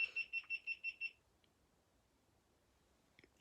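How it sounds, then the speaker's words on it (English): Six quick electronic beeps in a regular rhythm, clear and fairly close, followed by near silence with a couple of faint clicks at the end. "The camera just was making weird beeping noises."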